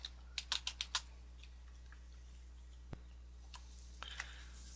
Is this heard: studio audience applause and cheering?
no